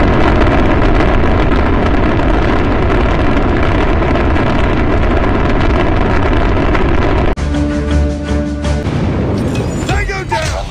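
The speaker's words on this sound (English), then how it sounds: "Friendly airstrike incoming." Friendly airstrike explosions in a video game pound as a continuous loud, rumbling barrage of booms, then cut abruptly to quieter battle noise with tonal effects and scattered impacts.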